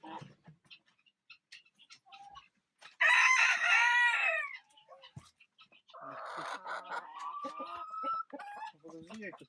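Pushkin breed chickens cluck in short bursts as a rooster lets out a loud, close crow, then further clucking and calls follow, with quiet gaps between them.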